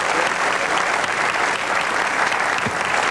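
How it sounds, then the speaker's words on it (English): Spectators at a 1999 basketball free-throw demonstration applaud in a broad, steady wash of clapping, full and even from start to end. "A little applause, please."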